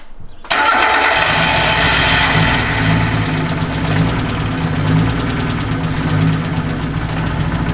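Swapped engine in a Mazda 121 cranks briefly and catches, then runs loud and close at a rough, uneven idle with a steady pulsing throb for several seconds, no talk over it.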